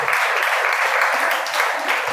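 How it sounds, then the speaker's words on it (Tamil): An audience at a school flag hoisting and prize distribution ceremony claps for students, a steady, even wash of many hands applauding together, fairly loud and continuous. "எல்லாரும் அவங்களுக்கு கைத்தட்டுங்க"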